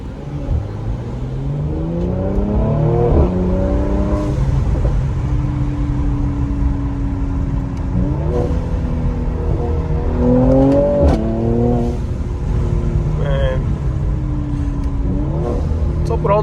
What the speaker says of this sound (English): if you guys are obviously wondering what that blow-off valve is, obviously that's not stock